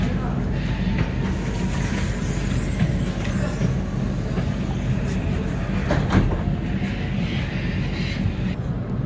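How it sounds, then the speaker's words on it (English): A Sydney T3 Bankstown line train on an aging railway line, its rumbling carriage noise steady and loud from inside the car, with occasional rattles and clicks; a voice talks faintly underneath. "I'm riding a railway line on its last legs, the T3 Bankstown"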